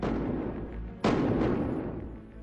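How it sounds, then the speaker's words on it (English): Gunshots fired in a home at 2:30 in the morning during a suspected break-in: a loud, sharp blast about a second in, preceded by a booming, reverberant rumble, with no talk. "In the chilling moments that follow, gunshots."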